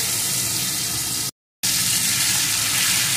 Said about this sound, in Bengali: এখন আলুগুলোকেও সুন্দর করে ভেজে নেব।